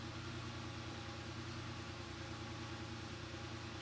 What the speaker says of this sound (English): The engine's still warming up and it's in the 13s.